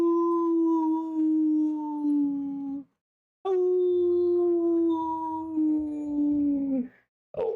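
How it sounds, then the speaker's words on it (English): A dog howls in two long, sustained, close, loud tones, each gliding slightly downward, separated by a short silence and followed by a brief whimpering yip at the end. "Chet, he's howling with me."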